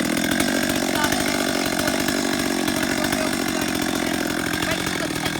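A chainsaw is started and revved, its engine snarling in a loud, steady buzz with a rapid rattling pulse that holds throughout, close by and alone.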